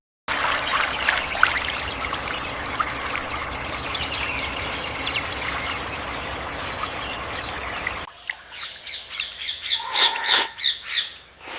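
Steady trickling water while a person rinses the mouth during wudu ablution, a continuous close splashing flow that gives way near the end to sharper, uneven spurts and splashes.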